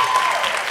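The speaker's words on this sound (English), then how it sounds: "Another big cheer for Cha-Cha!" A high school audience at a comedy hypnosis show bursts into loud applause and cheering, a dense burst of clapping and voices filling the room for under a second.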